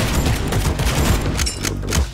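Rapid gunfire shooting zombies in a Chinatown video game, a dense loud burst of overlapping shots and booms filling the whole stretch.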